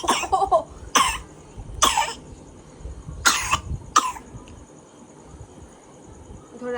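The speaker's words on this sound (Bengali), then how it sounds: "বাবা কাশি হয়েছে।" A father coughing, five separate harsh coughs spread unevenly over several seconds, close and loud, with faint insect chirping in the background.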